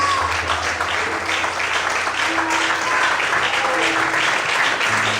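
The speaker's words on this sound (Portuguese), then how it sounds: "Todos podem aplaudir e exaltar o Senhor" A church congregation applauds to praise God during a Portuguese-language sermon, steady dense clapping from many hands filling the room throughout, with a low sustained tone underneath.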